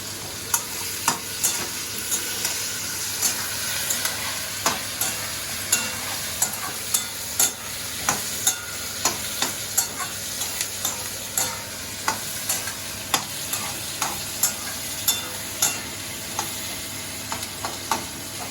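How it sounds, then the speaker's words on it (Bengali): Chopped onion and tomato frying in oil for Bengali chicken kosha, a continuous sizzle punctuated by regular clacks of a spatula stirring against the pan, close and steady throughout with no talking. "এটা এখন আপনার কেমন সুন্দর করে ভাজা হয়েছে লাল করে"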